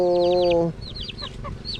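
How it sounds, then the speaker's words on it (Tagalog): Chickens cluck in quick repeated bursts with sharp chirpy notes, fairly close, over a brief tonal hum at the start that then cuts off. "Ngayon po, ari yung ating mga manok."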